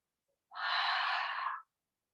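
One long, steady exhale during a yoga breathing exercise: a close, breathy rush of air lasting about a second, with silence before and after.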